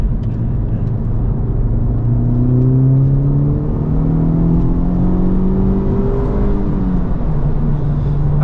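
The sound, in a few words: Honda Civic Type R engine on a track hot lap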